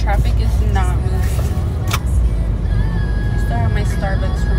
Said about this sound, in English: traffic is not moving